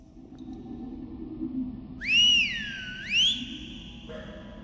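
Over a low murky rumble in a Silent Hill game, a clear two-note whistle rises and falls twice, then a steady high tone lingers.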